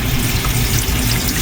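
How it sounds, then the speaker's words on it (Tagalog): Raw chicken breast is washed under running tap water in a sink, a steady, loud, close splashing rush with no pause. "Hugasan mo natin itong ating chicken breast"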